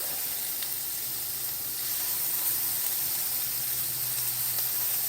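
Shrimp sauté in a hot pan with a steady, close hiss of sizzling oil that holds evenly throughout, with no talk over it.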